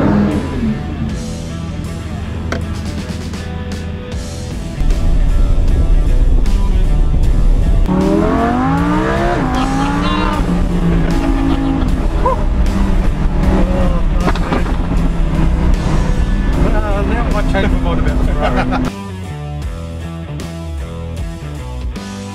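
Lamborghini Huracan V10 sports car driving on the road, a loud continuous engine drone with rising and falling revs, strong throughout and easing off near the end, with some music-like tones mixed in.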